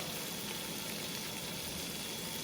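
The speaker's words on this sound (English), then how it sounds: "Sizzle, sizzle, maximum heat." Red wine hits a hot pan of meatballs with tomato puree over maximum heat, producing a steady, loud, dense sizzle that holds evenly throughout with no talking.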